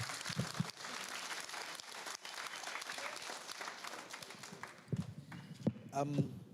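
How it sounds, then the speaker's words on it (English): Audience applause for panelists at a youth forum with the President, with sustained, dense clapping that fades toward the end as a voice begins speaking. "Can we just give another round of applause to our panelists?"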